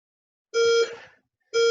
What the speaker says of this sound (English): Still beeping away.